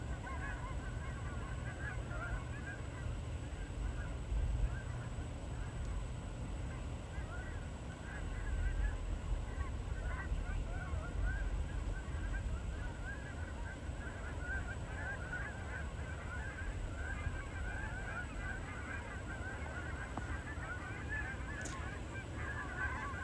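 A flock of geese honking in the snow at a red barn, a steady, moderately distant chorus of calls over soft outdoor background, with no talking.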